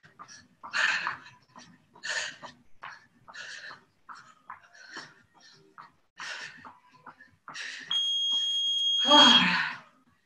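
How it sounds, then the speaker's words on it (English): A workout timer goes off near the end of a live bodyweight stretching class as a steady electronic beeping tone lasting about a second and a half, after faint breathy sounds. "Timer goes off."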